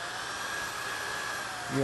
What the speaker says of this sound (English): You can hear the machine speeding up.